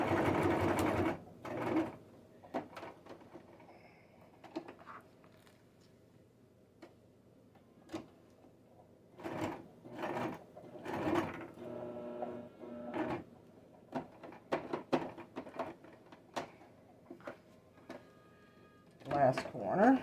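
A sewing machine stitches around a square of Velcro on a face and neck warmer, running in short bursts separated by pauses, with a voice speaking in between.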